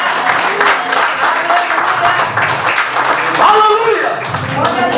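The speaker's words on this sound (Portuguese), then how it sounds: "Você pode aplaudir o Senhor." A church congregation applauding during a Portuguese-language worship service, sustained mixed clapping and crowd noise with voices talking and calling out over it, loud and continuous throughout.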